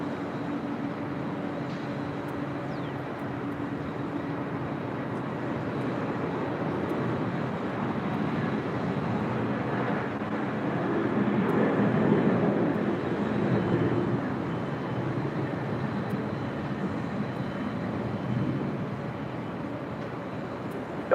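A 24-year-old Delta Boeing 767-300ER jet airliner at LAX gives off a broad, steady roar that swells a little toward the middle and then eases, heard alone without talk.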